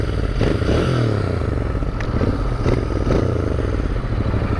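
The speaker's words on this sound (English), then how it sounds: "And the exhaust note of this bike is the same, but a bit on the lower side." A Royal Enfield Interceptor 650 BS6 twin-cylinder motorcycle exhaust rumbles steadily and fairly loud nearby, with a low throbbing note and no one speaking.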